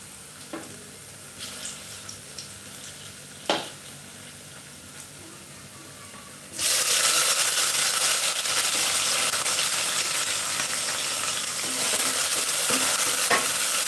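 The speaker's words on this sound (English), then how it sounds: "We have just added our red onions, and as you can see, they are turning into brown color." Red onions browning in a pan for Chinese-style cabbage stir fry, a few light stirring scrapes over a quiet sizzle, then a sudden loud, continuous sizzle as chopped tomatoes hit the hot oil, no talking.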